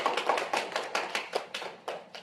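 Hands clapping hard as part of a yoga exercise, a rapid series of crisp, close claps in a loose rhythm with no talking.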